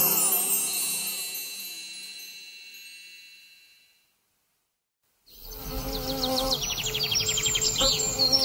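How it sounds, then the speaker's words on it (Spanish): Buzzing insect sounds, a bee, droning over music in a children's song, a steady hum that fades to silence and then returns with bright chirpy tones. "Abeja, todo el día trabajando, el polen recolectando."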